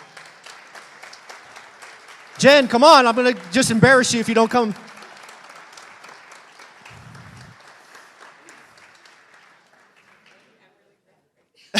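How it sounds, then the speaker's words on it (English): Enthusiastic audience applause breaks out at a seminar as a woman guest is called to the stage, a burst of clapping and cheering lasting a couple of seconds, with a voice speaking before and after. "Let's keep clapping until she gets up here."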